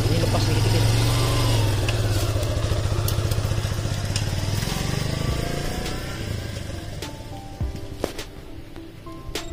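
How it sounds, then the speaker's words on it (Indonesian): A manual-clutch motorcycle engine idles steadily, then revs lightly as throttle is applied while shifting into gear, the sound fading and easing off toward the end; close and fairly loud. "Ini di gas sedikit, sebenarnya sedikit aja, masukin gigi, gas sedikit, ini lepas sedikit."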